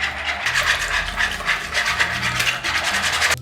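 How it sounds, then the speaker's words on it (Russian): Bread dough ingredients, flour, dry yeast and honey, being stirred together in a bowl, giving a continuous close scraping and rubbing sound with a steady, even rhythm and no voices. "Теперь все перемешиваю."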